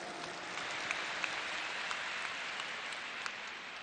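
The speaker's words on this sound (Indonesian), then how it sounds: "Tepuk tangan untuk semua yang memilih hadir di sini." A large stadium crowd at a Jakarta campaign rally claps and cheers in a steady, dense wash of applause, with scattered sharper claps standing out over the continuous roar. No one speaks over it.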